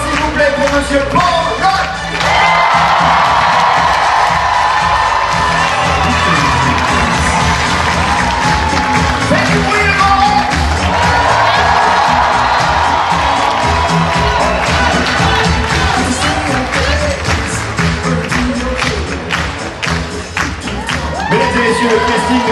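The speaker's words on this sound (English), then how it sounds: "Et enfin, un dernier applaudissement, s'il vous plaît, pour Monsieur Bron." Loud crowd applause and cheering fill a Paris premiere of Ghostbusters: Frozen Empire, sustained throughout with whoops and shouts rising over the clapping, the roar swelling and easing near the end.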